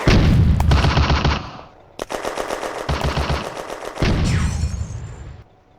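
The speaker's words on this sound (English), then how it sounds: "The Panzer fires at Bidot's section" A Panzer tank in the Firefight video game fires on infantry in long, loud bursts of rapid machine-gun fire, pausing briefly between volleys before a final burst trails off.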